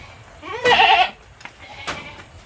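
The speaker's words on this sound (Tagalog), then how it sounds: "Ang kambing natin," A goat bleats loudly up close in a wavering cry, followed by a second shorter bleat, with faint background noise between.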